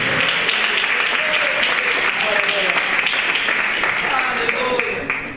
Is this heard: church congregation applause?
yes